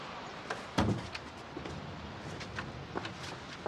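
A door swings shut with one solid, close thud early on, followed by faint rustling and small knocks in a quiet room.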